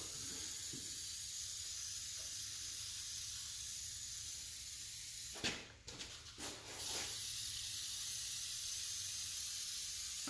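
Foaming carbon cleaner sprayed onto an LS 862 cylinder head from a 5.3 engine: a steady close hiss runs throughout, broken midway by a few short bursts of louder spray-can sputtering.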